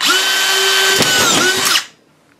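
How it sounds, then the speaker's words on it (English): A DeWalt DCF620 drywall screw gun whines loudly as it drives a screw, motor pitch holding steady then dipping as the screw seats, one continuous run of under two seconds before it cuts off. "So you're going to drive the screws in"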